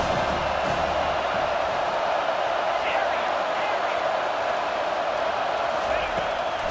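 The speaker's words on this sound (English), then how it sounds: "Decibels rising as the crowd gets behind this defense on 3rd down." A football stadium crowd roars during a college game between Missouri and Miami as the defense faces third down, a loud, sustained wash of cheering and noise that stays steady throughout.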